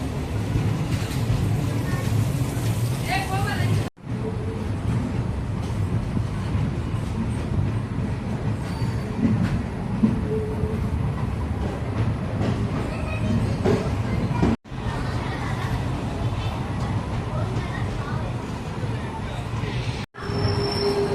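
A Madurai–Sengottai passenger express train runs along the line with a loud, unbroken rumble of wheels and carriages, heard from on board, with brief cuts in the steady roar.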